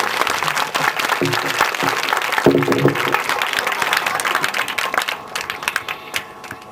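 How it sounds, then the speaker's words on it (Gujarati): Audience applause at a donor-honouring ceremony in Sarangpipali village, loud dense clapping from a crowd sustained throughout, with a few voices mixed in, thinning slightly toward the end. "આપણે એમને તાળીઓના ગડગડાટથી વધાવી દેવા."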